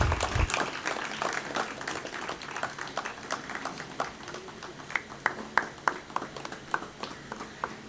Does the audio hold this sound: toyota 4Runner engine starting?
no